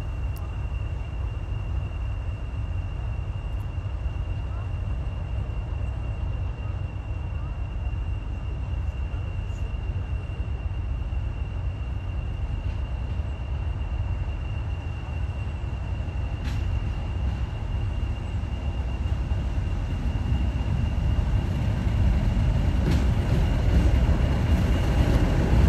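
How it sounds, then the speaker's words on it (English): A Class 50 diesel locomotive, 40049 Defiance, pulls into Hampton Road station on a heritage line during an autumn diesel gala. Its low, continuous engine rumble holds steady and grows slightly louder toward the end as it draws near. "Another Class 50, this time 40049 Defiance, arriving at Hampton Road."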